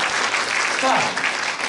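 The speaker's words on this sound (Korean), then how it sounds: "다시 한번 박수." Audience applause in a police riot-unit training centre lecture hall, a dense burst of clapping from trainees alongside a voice speaking briefly over it.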